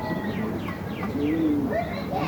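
Soft, repeated pigeon coos drift through steady background noise, a few calls overlapping with light chirps, fairly close by.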